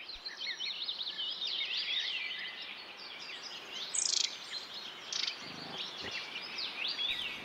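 A lone woodpecker chick calls from inside a tree hollow, giving rapid, repeated high chirps in a continuous, fairly faint stream with a few louder bursts.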